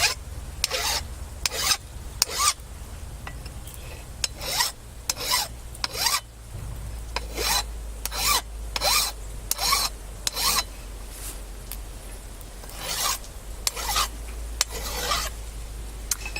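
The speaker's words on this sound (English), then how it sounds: "Now I'm going to take my file and see if it actually hardened." A hand file rasps over the steel of a wrench, which turns out soft, in repeated close strokes about once per second, each a gritty scraping burst, with no voices.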